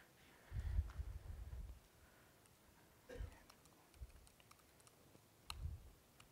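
Bursts of typing on a computer keyboard, quiet and close, with a cluster of rapid keystrokes early and scattered single taps afterward.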